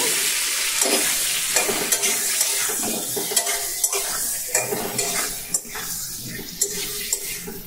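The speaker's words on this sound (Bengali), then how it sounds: "এইভাবে একটু কুমড়ো আর আলু কাঁচা লঙ্কা দিয়ে আর ফোড়ন দিয়ে একটু ভাজা করে নেব" Pumpkin, potato and green chilli frying in a pan with tempering spices, a steady sizzle broken by repeated scraping stirs and light clinks of a spoon against the pan, close and continuous.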